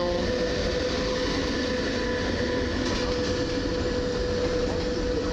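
A push-pull passenger train pushed by a Gama locomotive rumbles past at Warszawa Zachodnia, a loud, steady roar of wheels and engine filling the whole stretch.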